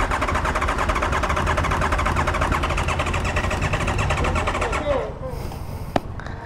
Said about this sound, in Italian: Si continua a spegnere la moto.